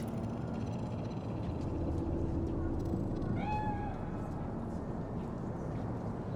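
A cat in Cyberpunk 2077 gives one short, clear meow partway through, rising above a steady low background rumble of ambient city noise.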